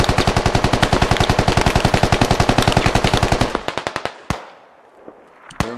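Rapid automatic gunfire from the video game Squad, set on the Yehorivka map with the Russian Army, sounds as a long, loud, evenly spaced burst that breaks off into a few scattered single shots and then near-silence.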